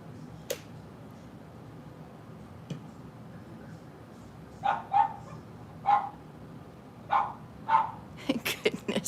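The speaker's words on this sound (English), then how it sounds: "the dog is outside. If y'all hear her, I hope that you don't, because she's so loud right now" A dog barking outside, a string of sharp barks that start sparse and come quicker toward the end, muffled and moderately distant, with a few light knocks indoors and no speech.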